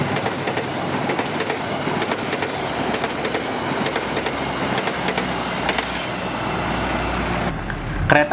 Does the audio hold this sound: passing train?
yes